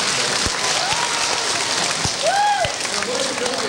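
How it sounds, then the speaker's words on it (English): A school audience of children applauds for itself after a magic show, a broad steady wash of clapping with a few sharp individual claps standing out and brief whoops or voices rising over it. "How about a nice round of applause for yourself?"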